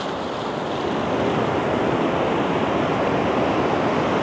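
Breaking waves on El Majahual beach, El Salvador, with the tide rising, a constant loud roar of surf filling the air and no speech.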